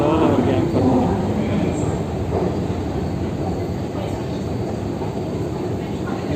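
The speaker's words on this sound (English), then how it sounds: "We are going underground to board the train." A London Underground train at Westminster station rumbles loudly and continuously with rattling wheels and faint squeals, heard close up throughout.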